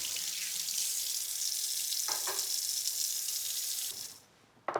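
Water pours steadily from a kitchen tap into a sink for several seconds, fairly close and alone, then cuts off, followed by a brief clatter.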